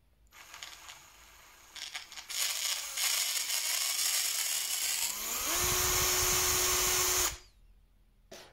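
A Parkside PABS 20-Li D5 cordless drill on speed setting 1 spins up and runs steadily, its motor whine climbing in pitch before holding a constant high buzz, then cutting off.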